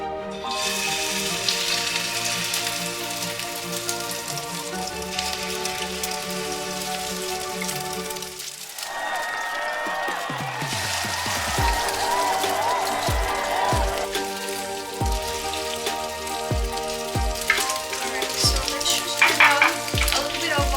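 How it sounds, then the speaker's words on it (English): Sizzling and crackling of salmon frying in hot olive oil, steady and close, intensifying after a loud drop-in with sharp pops and spatters. "Now that our olive oil is kind of like boiling, we are going to start putting our salmon."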